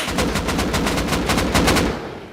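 Rapid automatic gunfire from the video game Rust in an online raid, a dense, loud burst of evenly spaced shots running for about two seconds before trailing off.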